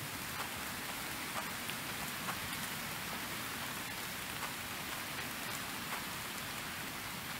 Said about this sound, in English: I hate it when it's raining.